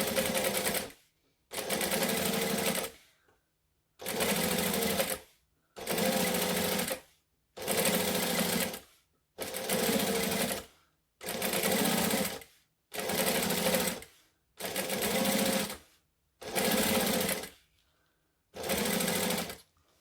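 Sewing machine stitching fabric slowly for a sewing project, in about eleven loud bursts of steady whirring, each lasting a second or so and separated by short pauses, with no voices.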